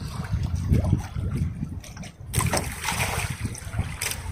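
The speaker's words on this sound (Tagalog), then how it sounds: "malalaki pa naman yung alon" Big sea waves slosh and splash against a fishing boat out at sea in the late afternoon, irregular watery surges with a brief lull midway, close and fairly loud.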